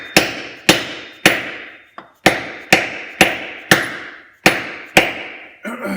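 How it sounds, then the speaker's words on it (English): A quad bike axle is driven out with a hammer struck against a wood block: about ten sharp, loud, evenly spaced impacts, each ringing briefly before fading. "before you start hammering on the axle, you don't want to use a metal hammer"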